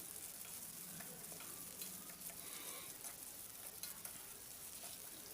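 Onions sizzling steadily in a pan for tomato chutney, a dense continuous frying hiss with occasional stirring scrapes, close and fairly quiet, no voices.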